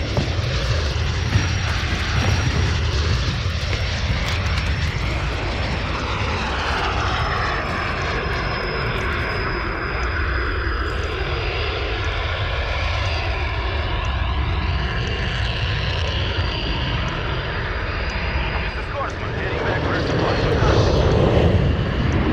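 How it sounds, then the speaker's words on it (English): A VTOL aircraft in a video game's search and destroy mode makes a loud, continuous engine drone with shifting pitch, and a voice talks over it. "This VTOL is crazy."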